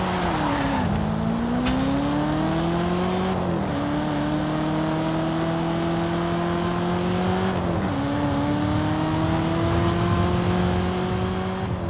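A Camaro driving in a video game, its engine droning steadily with pitch that climbs through the gears and drops at each shift, loud and close throughout.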